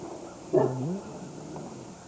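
Dog gives a single short whimpering yelp outdoors, faint and brief against quiet background.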